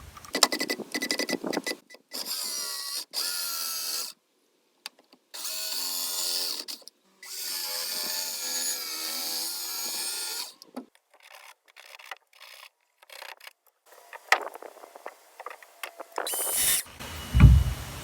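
Handsaw cutting across the grain of wooden shiplap boards, heard as several bursts of raspy back-and-forth strokes separated by short pauses, close and fairly loud, with a thump near the end.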